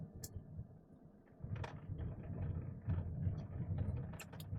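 Tyres rolling over rough asphalt, heard from inside a car fitted with sound-deadening insulation: a low, muffled rumble that grows slightly louder after the first second and stays steady, with faint brief clicks above it.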